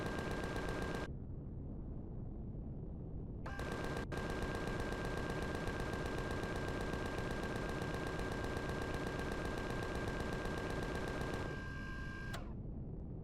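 Sustained automatic gunfire shooting at turrets in Empyrion Galactic Survival, a loud rapid stream of shots that stops briefly, then resumes and runs almost continuously before cutting off.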